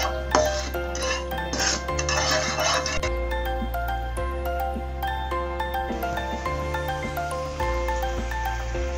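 A pan clinks and clatters as it is set down on a kitchen stove while cooking an apple cake, with several close metallic knocks over a low steady hum and soft background music.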